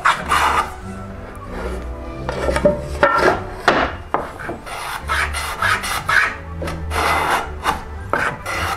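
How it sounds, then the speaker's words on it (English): Low angle block plane with its blade set to the edge, chamfering the corners of wooden high chest parts; repeated rasping strokes shaving wood at close range, in uneven bursts, with no talking. "I'm using my low angle block plane here, which is got the blade clear to the edge."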